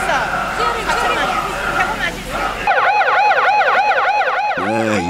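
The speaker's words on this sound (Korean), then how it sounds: "사이렌 소리와 함께 드디어 경매가 시작됩니다" A loud wailing siren signalling the start of a fish auction at a seafood market rises and falls repeatedly after a stretch of crowd chatter, sweeping up and down in steady cycles until it stops.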